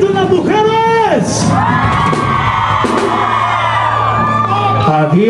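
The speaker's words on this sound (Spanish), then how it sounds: "que se haga un grito en las mujeres" Women in a concert crowd at a show in Las Vegas screaming and whooping, loud rising yells layered over one another, with cheering around them and bangs from the stage.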